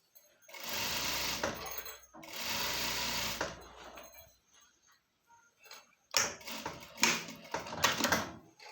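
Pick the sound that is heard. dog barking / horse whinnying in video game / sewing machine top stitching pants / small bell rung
sewing machine top stitching pants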